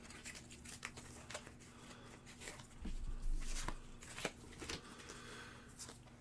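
A deck of game cards is shuffled by hand at close range, quiet riffling and rapid flicking bursts repeating irregularly over several seconds with no talking.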